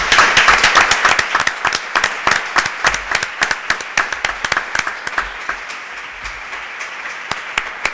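Applause breaks out at a round-table discussion on photography, a dense burst of many hands clapping at once that slowly thins into scattered, separate claps toward the end, with no talk over it.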